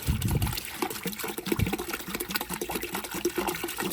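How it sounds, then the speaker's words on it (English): Vinegar glugs and splashes as it is poured into a container for soaking underwater fish lights, a short wet pouring sound heard up close without any talk. "I'm going to pour this in here and then top it off with water"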